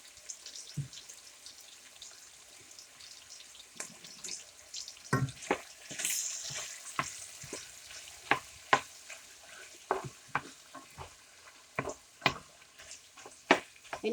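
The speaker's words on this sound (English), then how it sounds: "And that sizzle says my oil is ready." Chicken and vegetables for a stir fry sizzle steadily in hot oil in a pan, with scattered sharp clanks and knocks of stirring that grow busier toward the end, and no talking.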